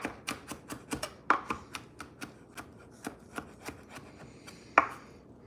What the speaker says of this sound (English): Ugh, sticky garlic. Sticky, sticky, sticky. All right, so let's do the same thing here. Chopping it.